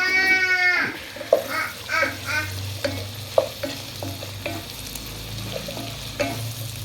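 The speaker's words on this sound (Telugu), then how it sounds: "ఇప్పుడు బెండకాయ ముక్కలు వేసుకోవాలి." Okra pieces tossed into a pan with cooking bottle gourd, giving a close frying sizzle and scattered scraping stirs and clinks of a spatula, preceded by a brief bleating-like squeal, with a voice faintly present.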